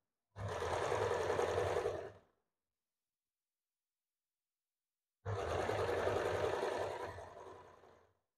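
A sewing machine stitching a blouse seam runs in two steady bursts of about two seconds and three seconds, separated by a pause of silence, loud and close with no voices.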